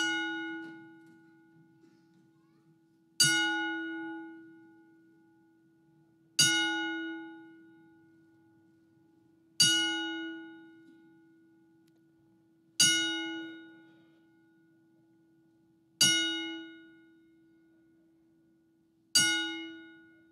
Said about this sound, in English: Please rise as we toll the bell 10 times.